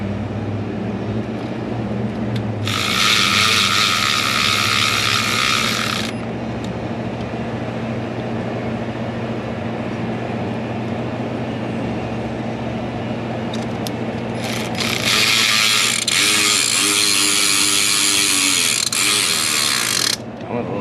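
A ratchet clicks rapidly in two long bursts while spark plugs are tightened on a 2003 Mercury Grand Marquis 4.6L V8, close and loud over a low steady background hum.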